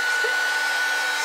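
A heat gun blows steadily over blue-green painted craft paper in a loud, continuous airy whoosh with a faint high whine, close and alone, lasting about a second.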